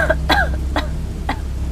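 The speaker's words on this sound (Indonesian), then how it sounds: "Siapa itu yang batuk tengah malam begini?" A person coughs late at night, three or four short, sharp, fairly loud coughs spaced about half a second apart against a low steady background hum, with no talking.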